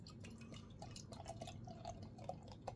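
UK craft lager poured into a glass, heard as a faint, close trickle with soft dripping and fizzing splashes over a low background hum, with no talking.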